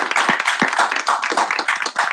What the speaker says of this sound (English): Give him a big round of applause, everyone